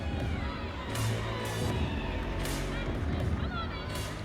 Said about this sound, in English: See her cheering teammate Sierra Ballard, cheering her on from the corner.